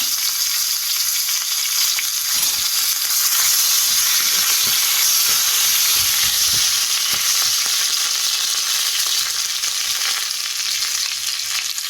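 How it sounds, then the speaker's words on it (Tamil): Curry leaves sizzle and crackle vigorously in hot oil for a tempering, a steady loud frying hiss with scattered pops, close up and without talk. "ஃபைனலாக வந்து கருவேப்பிலையை வந்து ஆட் பண்ணிவிட்டு டக்குனு க்ளோஸ் பண்ணிடுங்க, இல்லைன்னா மேலே தெளிச்சிடும்"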